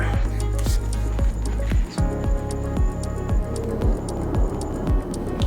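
Motor oil poured from a quart bottle into a Kawasaki Z900 motorcycle engine makes a steady run of close, rhythmic glugs and gurgles.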